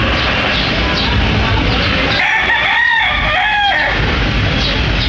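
A gamefowl rooster crows once in a backyard, a clear drawn-out call rising and falling over about two seconds, set against a loud, constant wash of outdoor background noise.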